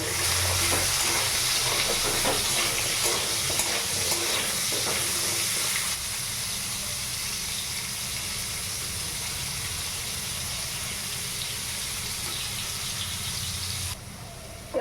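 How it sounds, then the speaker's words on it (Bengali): Potatoes frying in a pan, giving a steady, close hiss and sizzle with faint stirring scrapes early on, the sizzle dropping slightly halfway and continuing alone to the end. "আলুটা ভাজবো এখন"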